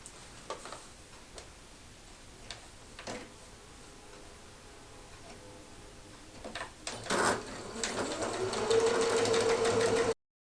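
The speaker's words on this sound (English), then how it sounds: "I'm going to reinforce at the beginning and the end with a back stitch, and I'm using 1/2 inch seam allowance." Sewing machine stitching a seam on a chair slipcover with back stitches at the start, preceded by scattered clicks and light handling, then rising into a louder steady whir that runs until the end.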